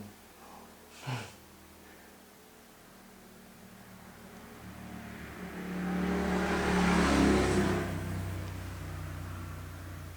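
A motorcycle passes, its engine swelling from a faint hum to a loud roar before fading; a brief thump occurs earlier.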